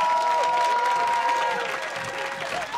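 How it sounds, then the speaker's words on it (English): Audience at a youth poet laureate commencement ceremony on a stage applauds in a sustained, even wash of clapping with light cheering, filling the hall. "Go ahead, clap."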